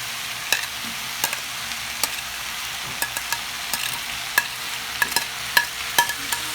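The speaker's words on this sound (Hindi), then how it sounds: "और अब हम इसमें चिकन ऐड करेंगे।" Chicken and vegetables frying in a pan for a fried samosa filling, with a steady close sizzle broken by sharp clicks and scrapes of a spatula stirring at irregular intervals; no voices.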